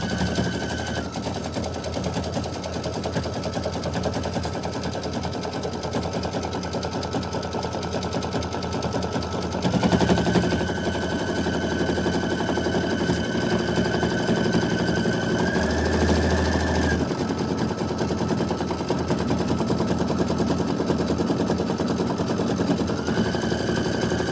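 An embroidery machine stitches a design onto fabric in a hoop with a fast, continuous mechanical rattle and a steady whine. It runs close and without pause for the whole stretch.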